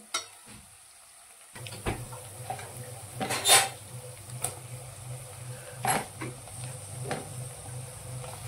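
Onions frying in a pan with curry leaves for a bitter gourd dish, a steady close sizzle broken by several clinks and scrapes of stirring, with no voice.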